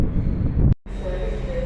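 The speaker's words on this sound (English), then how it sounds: "Here we've got another 195 pulling in." A Class 195 diesel multiple unit pulls into York station with a steady low rumble and a thin whine, wind buffeting the microphone, and a brief dropout partway through.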